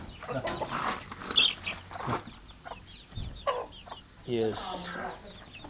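Clucking from chickens, some of them black birds, kept at home in Kerala, comes in scattered bursts among household noise, with a short spoken word and background voices.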